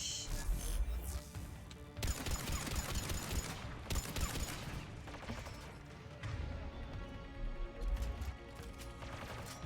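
Gunfire in a Mass Effect 3 battle against geth, dense bursts of rapid game shots and impacts layered with music and effects, loud and continuous throughout.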